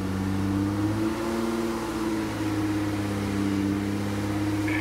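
A 2002 Acura engine idles steadily at about 2,000 RPM with a whining power steering pump, a low, even hum with a slight dip partway through, fairly quiet and without talk.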